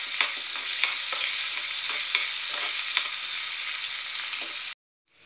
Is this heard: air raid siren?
no